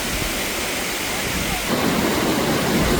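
The Makhuntseti Waterfall in Georgia, about 48 meters high, rushes in a steady broadband roar that swells louder partway through, with wind buffeting the microphone.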